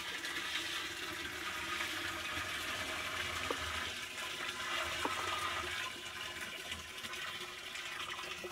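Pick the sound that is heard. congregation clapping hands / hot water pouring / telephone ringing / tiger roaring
hot water pouring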